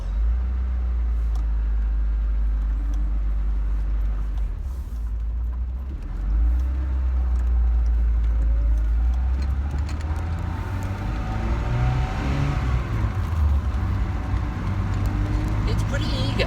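A 1993 Alfa Romeo Spider Series 4 engine runs and revs near at hand, a low steady rumble with a couple of swells in pitch, while a voice talks over it.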